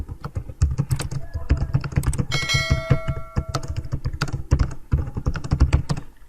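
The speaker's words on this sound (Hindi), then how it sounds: "सबसे पहले अपना टेक्स्ट टाइप" Fingers typing on a computer keyboard, a steady stream of close, sharp key clicks with a brief bell-like tone partway through, no voice over it.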